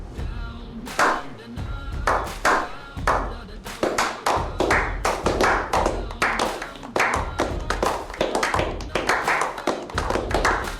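Hand clapping comes in irregular bursts of sharp, close claps with short pauses between groups, fairly loud and with no voices over it.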